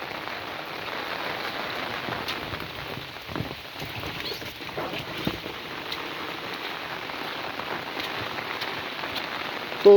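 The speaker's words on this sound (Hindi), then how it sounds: "तो उत्तराखंड में ऐसे बरसात होती है।" Heavy monsoon rain in Uttarakhand falls in a dense, steady roar of drops on surfaces, continuous and fairly loud with occasional sharper drips and no voices.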